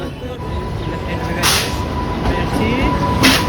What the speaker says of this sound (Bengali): ফাইনালি আমাদের ট্রেন ঢুকে গেছে।